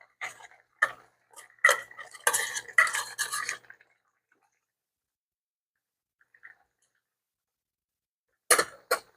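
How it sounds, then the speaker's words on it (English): A spoon scrapes and clinks inside a pot while a tuna and spaghetti mixture is stirred, in a burst of close clatter, then near silence, then a final few knocks. "I'm just going to mix it around in there"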